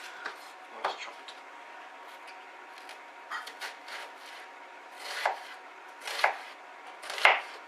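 A knife chops food for a bacon and tomato risotto in a series of irregular, close thuds and scrapes on a board, growing louder toward the end.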